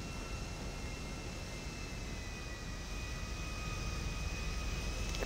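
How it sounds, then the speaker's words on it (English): Steady broadband roar of an airplane engine in flight during a stunt-driving game session, a continuous loud drone with a faint high whine, no talk over it. "You're drunk driving in an airplane!"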